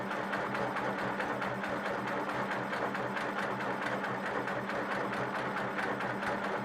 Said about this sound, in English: Okay, I'm at the corner now, so I'm going to stitch my kite shape.